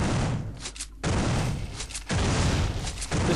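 Bursts of automatic gunfire from a weapon in the System Shock 2 video game, loud and sustained, broken by two short pauses into three rapid volleys.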